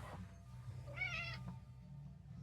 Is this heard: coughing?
no